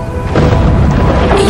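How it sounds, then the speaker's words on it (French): A loud, deep thunderclap booms and then rolls on heavily without fading, filling the whole stretch with low rumbling. "ce terrible coup de tonnerre"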